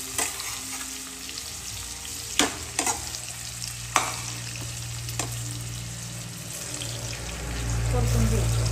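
Masala and bitter gourd sautéing in hot oil, a steady sizzle with a few sharp spoon-against-pan scrapes and stirring knocks, growing louder toward the end.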